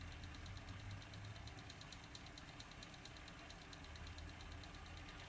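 A Dewalt power station lathe motor, about five years old and well used, runs steadily at its lowest speed, giving a constant low hum with a faint rhythmic ticking, with no one talking.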